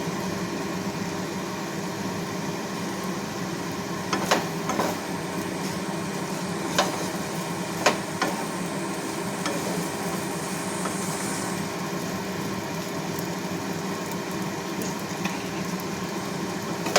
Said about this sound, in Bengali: দেখুন কিছুক্ষণ নাড়া হয়ে গেছে